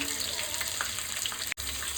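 Two cut green chillies dropped into hot oil with spices in a kadai, giving a steady loud hiss and crackle throughout, broken by a brief dropout near the end.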